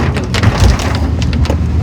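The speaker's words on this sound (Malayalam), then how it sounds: "നല്ല കിടുക്കൻ മഴ കേട്ടോ നല്ല രസമുണ്ട്" Heavy rain pours down steadily and loudly, a dense wash of drumming drops close by with no one speaking.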